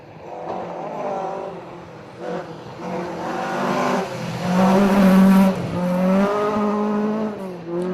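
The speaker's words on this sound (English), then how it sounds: "Sounds like an Escort Mark II. It is indeed." A Ford Escort Mark II rally car engine snarls loudly nearby on a rally special stage, its pitch climbing and dropping through gear changes as it passes.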